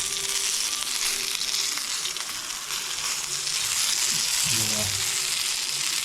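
Pomfret fish frying in a pan, a steady bright sizzle that runs throughout at close range, with a brief spoken word over it.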